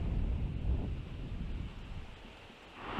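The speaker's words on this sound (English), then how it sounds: "the wind certainly funnels this way from the seafront up Cargate Hill" Wind funnels up Cargate Hill from the Filey seafront, buffeting the microphone with a low, steady rumble that eases slightly toward the end.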